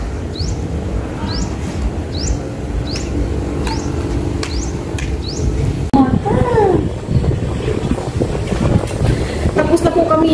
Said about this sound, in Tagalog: Ang hangin po.